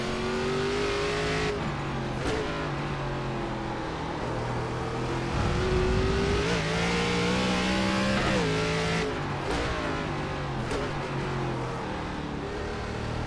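An ARCA race car engine in the iRacing simulator at Sonoma roars continuously, revving up and down through gear changes with rising and falling pitch, loud and close, with no talking.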